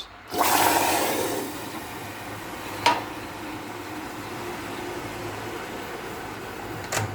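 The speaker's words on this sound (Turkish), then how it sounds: "Şimdi üzerine bir su bardağı suyumuzu döküp hemen kapağını kapatıyoruz." Water poured from a glass onto melted sugar in a pot, then covered, bursts into a loud hiss that settles into a steady sizzling rush, with a sharp clank partway through and another near the end.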